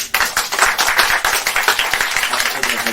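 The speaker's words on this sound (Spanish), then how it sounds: "Yo te doy un aplauso y también un aplauso a todos los asistentes." Audience applause at a tribute event: a dense, steady patter of many hands clapping at close range, sustained and even for a few seconds with no talk.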